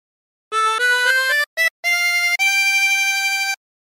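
Harmonica playing a phrase of a song: a run of short quick notes, a brief gap, then longer sustained notes, loud and close with no voices.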